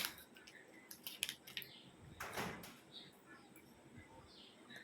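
A Fuse chocolate bar is cut with scissors, giving a few quiet, crisp snips and a brief crinkle of wrapper at close range, with soft background noise and faint talk.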